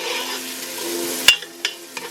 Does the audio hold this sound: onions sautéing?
yes